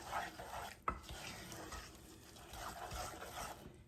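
Slivered almonds are stirred into a wet cake batter for a Texas white sheet cake, a soft, continuous sloshing swirl with one sharp tap of the spoon. The sound is quiet and close, with no voices.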